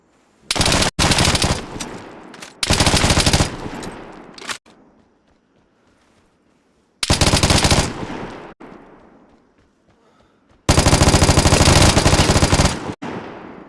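Bursts of rapid automatic gunfire from a weapon in the video game Vigor, four long loud volleys separated by quiet gaps and occasional single shots.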